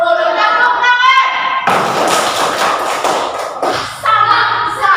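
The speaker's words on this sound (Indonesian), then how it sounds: "Boleh tepuk tangan." Children in a classroom break into a short burst of brisk hand clapping in a rhythmic pattern, set between moments of a voice speaking nearby.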